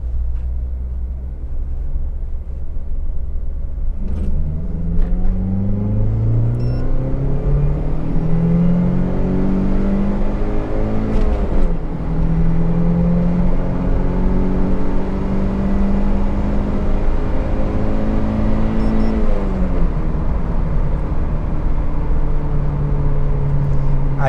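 A Chevrolet Tracker 2.0 16V turbo with an FT500 Lite tune, 4x4, accelerates hard in a roll-on from 40 to 120 km/h, its engine note rising steadily with distinct gear changes, loud and continuous from inside the cabin.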